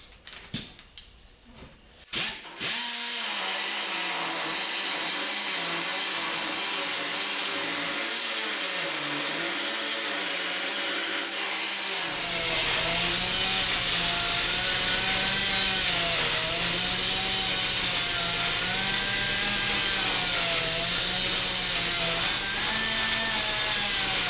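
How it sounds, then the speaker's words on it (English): A grinder cutting out metal on an exhaust being fabricated for a fender exit: a brief clatter, then a loud, continuous whining motor whose pitch wavers and rises as it bites into the steel, with no talking. "I'm going to go ahead now and I'm going to grind that out."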